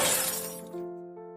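A guardrail shatters in a car crash: a loud, brief burst of breaking and crunching debris fades quickly into a ringing metallic tone that lingers and decays.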